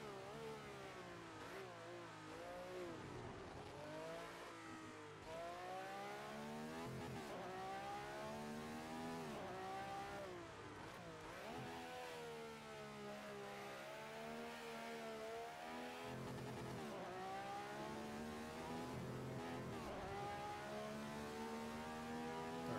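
A Ferrari 312/67 race car engine on track, repeated rising and falling revs as it accelerates and shifts through gears, heard from a distance and fairly faint, no voices.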